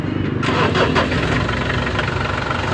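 A car engine cranks and catches, then settles into a steady, loud, close idle with a rhythmic throb that keeps running.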